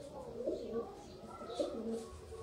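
A Sialkoti pigeon coos softly in a few low, rolling phrases over roughly two seconds, close by and fairly quiet.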